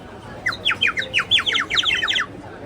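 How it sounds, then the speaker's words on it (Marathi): Rapid bright bird-like chirps from a sparrow ornament in a quick repeated series, steady and fairly loud, over a low background hum. "हे चिमणी आहे आवाज पक्ष्यांचे येतात"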